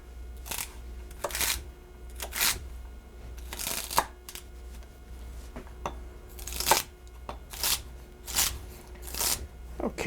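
A knife dices celery into small soup-sized pieces on a cutting board, giving irregular crisp chopping strokes in short clusters, close by, with quiet gaps between them.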